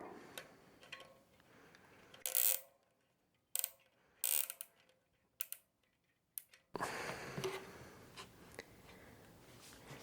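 Bike parts are tightened by hand, giving quiet, close mechanical clicks and ticks in short irregular bursts over a soft background hiss.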